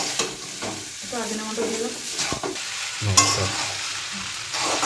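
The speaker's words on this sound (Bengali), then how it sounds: "চাউমিন দেবো, দুবার করে ভাজবো" Chow mein is stir-fried in a pan with a steady sizzle and repeated scraping of a spatula tossing the noodles, close and moderately loud, while someone talks intermittently over the cooking.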